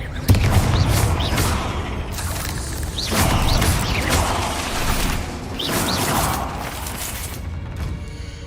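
Fire spell blasts in Hogwarts Legacy, loud repeated explosive bursts and crackling impacts spaced a couple of seconds apart, with game combat noise rumbling between them.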